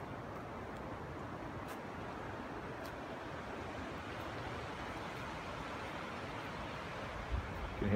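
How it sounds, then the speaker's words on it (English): Flowing stream water below the Old Ewing Park trail bridge in winter, a faint, steady broadband rush continuing evenly throughout, with no talking. "Hear the water, she sounds good down here."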